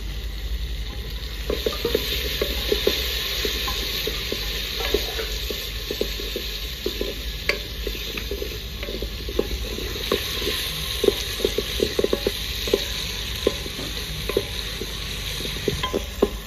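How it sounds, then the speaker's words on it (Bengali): Chopped tomatoes go into a pan of fried onions for a quick Rajasthani-style pressure-cooker chicken, giving a steady close sizzle with repeated scraping stirs of a spoon throughout, no voices. "পেঁয়াজ ভাজা হয়ে গেছে, এবার টমেটো কাটা দিয়ে দেবো।"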